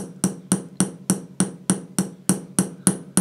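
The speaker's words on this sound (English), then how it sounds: "And if you watch the hammer, it just becomes" A hammer taps a chasing tool against metal in repoussé work, striking in an even, moderate rhythm of about three blows per second, each hit crisp and close.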